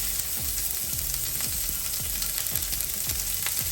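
Ingredients sizzle in hot, smoking olive oil in a pan for ramen, a dense continuous crackling frying hiss with faint stirring or scraping taps underneath.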